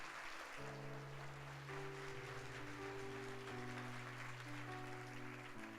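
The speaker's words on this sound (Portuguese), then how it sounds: "Então dê um forte aplauso ao Senhor Jesus." A congregation applauds during a Sunday church service, a faint, steady wash of clapping blended with sustained keyboard or organ chords throughout.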